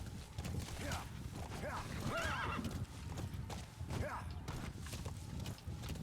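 A horse in the video game Death Stranding whinnies twice while its hooves clip-clop steadily underneath, the game sound fairly quiet against a soft ambient background.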